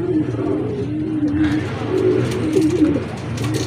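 Racing pigeons coo in low, rolling repeated calls close by, with faint background noise and some brief higher chirps.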